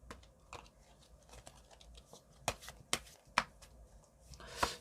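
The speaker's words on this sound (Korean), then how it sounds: "카드를 한번 뽑아보도록 하겠습니다" Tarot cards being drawn and handled during a reading, giving soft quiet shuffles and rustles with several crisp card snaps spaced out near the end.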